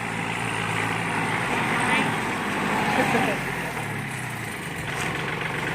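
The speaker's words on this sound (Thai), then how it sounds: "จ้างรถไถมาไถแล้วนะคะ" A steady engine drone rumbles continuously nearby from a tractor plowing a field, with a voice talking over it.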